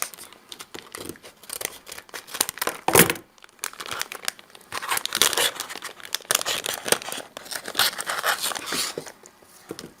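Scissors snip and crinkle through the plastic wrapper of a Kinder Joy surprise toy, with repeated cutting strokes and rustling crackles, close up and continuous for several seconds.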